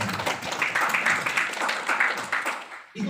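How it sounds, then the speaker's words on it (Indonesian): Audience in a gathering applauding: dense, steady clapping from many hands that carries on for about three seconds, then cuts off. "Tepuk tangan untuk panjenengan semua."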